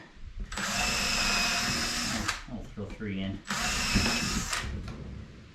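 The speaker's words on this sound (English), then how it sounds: "This is really old wood here, so I'm pre-drilling it so it doesn't split." A power drill whirs steadily, pre-drilling old wood, pauses briefly with a ratcheting clatter and a short spoken phrase, then runs again at close range.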